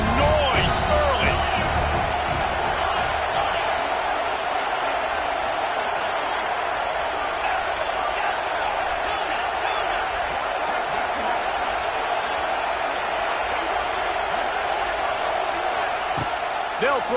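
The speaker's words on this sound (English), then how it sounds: "This crowd bringing the energy and noise early" College football stadium crowd noise: a steady, dense roar of fans filling the background for the whole stretch, with occasional sharper bangs near the start and end, under continuous play-by-play commentary.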